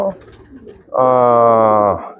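A long-distance racing pigeon gives one loud, drawn-out coo close by, rich and steady for about a second, after a short stretch of quieter background noise.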